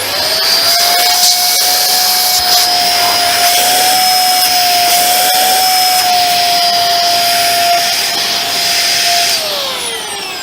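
A Dyson DC50 small ball vacuum cleaner runs steadily during a suction check: a loud, close, continuous whining motor drone with a high pitched tone that holds for ten seconds and dips slightly at the end.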